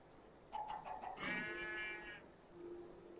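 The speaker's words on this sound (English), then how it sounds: "No, that's a sheep." A sheep bleats once in a Minecraft-style block game, a short wavering cry that is fairly faint over quiet background ambience, with no voices.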